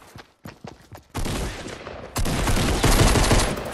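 Shotgun blasts in a video game set in Tomato Town: a few sharp separate shots, then a dense continuous burst of loud gunfire close up.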